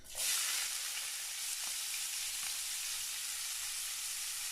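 Onions hit hot oil left over from frying fish and burst into a loud, steady sizzle that holds evenly, with no talking.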